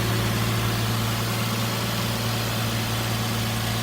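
Nissan Maxima 3.5-liter VQ35 V6 idling steadily, an even mid-low hum heard up close with no changes in speed.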